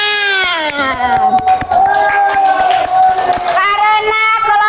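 A class claps and cheers for a student group after their answers, with loud children's voices and shouting on top of scattered sharp claps, lively and close.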